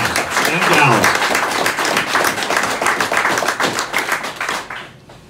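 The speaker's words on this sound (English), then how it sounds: "let's have a round of applause for those guys and gals" A crowd at a VFW club event honoring first responders breaks into a round of applause, loud, dense clapping that begins near and fades out at the end, with voices mixed in.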